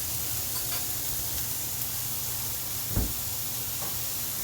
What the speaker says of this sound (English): He's got the onions just kind of breaking down with the garlic in there.